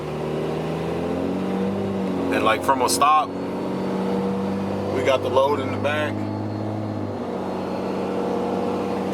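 Diesel truck fitted with an S468 turbo and 100% injectors accelerating from a stop while towing a load, a deep, steady engine drone that swells under someone talking inside the cab.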